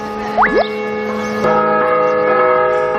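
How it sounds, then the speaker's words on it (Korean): Cathedral bell in Malta ringing at noon: sustained ringing tones swelling and layering, with a voice talking over it. "그때 정오를 알리는 대성당의 종이 울리자"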